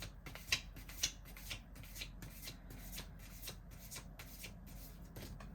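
Tarot cards are riffled and shuffled by hand in a quiet room. Repeated soft papery bursts come in a steady rhythm, close and faint, with no talking over them.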